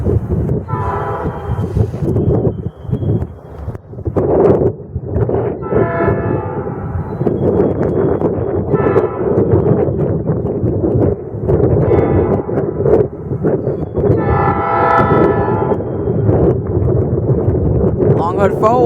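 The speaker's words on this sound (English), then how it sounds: "Norfolk Southern switcher is about to come through." A Norfolk Southern switcher locomotive rolls past in Fostoria, its rumbling rail noise steady throughout while the horn sounds in several long, loud blasts, with wind buffeting the microphone and people talking.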